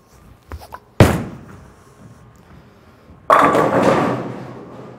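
A Brunswick Intense Mindset bowling ball lands with a sharp thud, rolls quietly down the lane, then crashes into the pins in a loud clatter that slowly fades.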